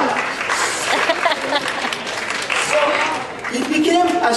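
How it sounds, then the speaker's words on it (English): Loud, continuous clapping from an audience fills the clip, with cheering voices and shouts mixed into the applause. "Clap for him."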